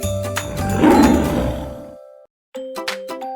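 A lion's roar, loud and rough, swelling then fading over about two seconds, with bright chiming tones layered over it and returning after a brief silence.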